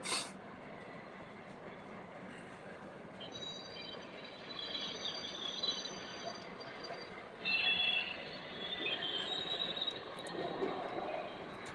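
FEF 844 steam locomotive running past, a steady rolling rumble with thin high wheel squeals rising midway, heard from a moderate distance with faint birds.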